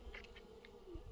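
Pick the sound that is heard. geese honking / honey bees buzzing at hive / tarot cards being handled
honey bees buzzing at hive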